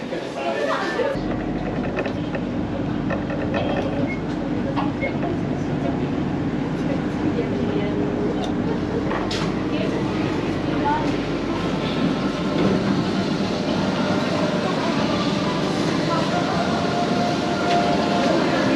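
A train riding to Sentosa Island in Singapore gives a steady, loud rumbling hum of the carriage with faint rattles throughout, heard from on board without pause.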